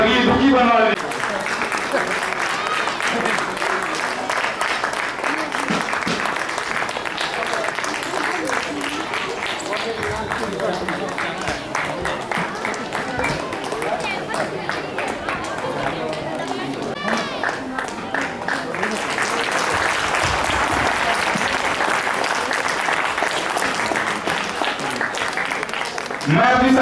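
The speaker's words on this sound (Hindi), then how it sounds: "बढ़िया तालियां बजाने में आप लोग कंजूसी कर रहे हैं" Sustained applause from an audience at a ceremony honouring community members, a dense, steady wash of clapping that swells again toward the end, with crowd chatter mixed underneath.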